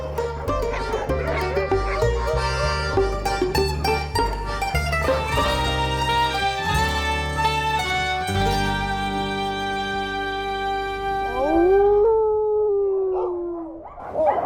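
Sled dogs in Kamchatka howl together in a loud, close chorus of long, wavering tones that overlap and rise before trailing off near the end.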